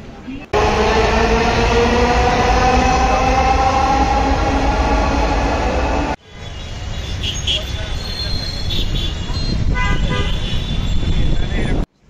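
Loud, steady rumble and whine of a crowded metro train in motion, then an abrupt cut to a noisier carriage packed with standing passengers, with voices and higher electronic tones.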